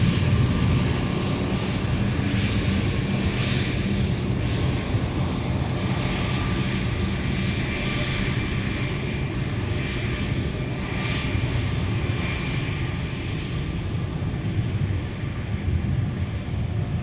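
UPS jet taxiing at MSP airport, a steady, fairly close whining engine drone with a broad rumble underneath, continuous and alone.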